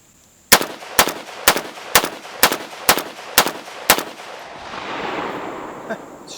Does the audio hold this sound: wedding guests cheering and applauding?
no